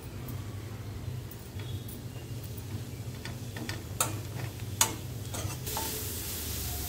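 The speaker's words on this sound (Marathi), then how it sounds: "त्याच्यामध्ये आपण ही कोथिंबीर टाकूया आणि जरा परतून घेऊया" Fresh coriander leaves stirred in hot oil in a pan on the stove, giving a steady low sizzle with scraping stir strokes and a few sharp utensil clicks, close and moderately loud with no talking.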